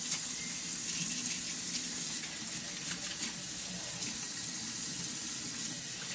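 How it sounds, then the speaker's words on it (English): Hot water runs steadily from a kitchen tap into a sink for hand washing before preparing bluefin tuna sushi, a constant close splashing hiss with no talk. "Hot water."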